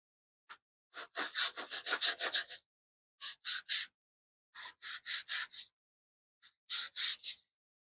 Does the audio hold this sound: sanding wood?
yes